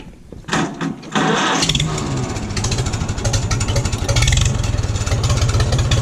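A 1941 Farmall H tractor is cranked without the choke: a brief whirring crank, then the engine catches and settles into a loud, close, steady chugging idle with rhythmic pulses.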